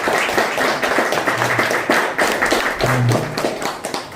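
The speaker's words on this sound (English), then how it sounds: "Can I have a round of applause for Mr." An audience at a gathering in a London shop applauds a guest, the clapping dense and steady throughout, with a couple of low thumps beneath the sound of hands.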